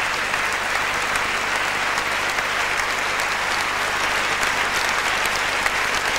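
Steady, full applause from a large audience at an awards ceremony greeting a singer, an even wash of clapping throughout.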